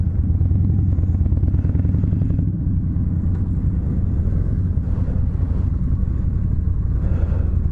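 A Harley-Davidson Street Rod motorcycle on a test ride gives a steady, droning engine rumble with wind buffeting across the microphone, continuous throughout with no talk.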